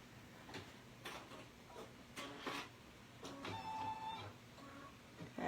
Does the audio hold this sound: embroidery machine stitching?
yes